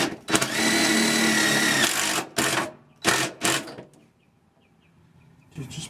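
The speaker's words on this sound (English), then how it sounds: "It literally snapped the bolt in half trying to screw into the frame" A power tool driving a bolt into a Sprinter van's frame, a loud whirring burst followed by several shorter bursts, then near silence as the bolt snaps.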